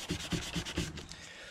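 Rusty bolts from a salvaged RC truck get scrubbed in four short, rhythmic rubbing strokes, close up and quiet, with no voices.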